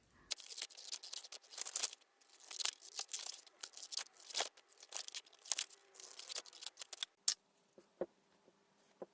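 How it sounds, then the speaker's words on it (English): Scissors snip through a printed paper image to trim it to size for the bottom of a craft box, in a long run of quick, close, crisp cuts with brief rustles of paper, ending in a few sparser snips. "So all I'm going to do now is cut it and stick it down using my glue stick."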